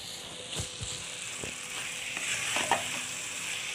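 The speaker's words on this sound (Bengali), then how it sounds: "এগুলোকে আমি আবার ভালো করে মিশিয়ে দিই।" Carrot halwa with two spoons of powdered milk being stirred in a pan, a low steady sizzle under a few scattered spoon scrapes and clicks, close and fairly quiet.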